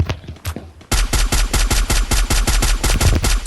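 Rapid automatic gunfire in the Free Fire mobile battle-royale game, a few scattered shots and then a dense, loud burst of evenly spaced cracks close up, with no voices.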